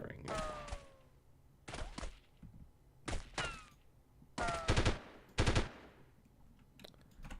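Gunfire from the 1998 shooter game Delta Force comes in separate bursts and single loud shots with pauses between them. Each shot is sharp, followed by a short ringing tail, with quiet game ambience in the gaps.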